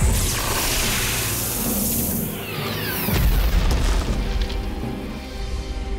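A cartoon cannon fires a shot at an incoming comet, giving a loud, sustained boom with a whooshing rush that swells midway and rumbles on for several seconds.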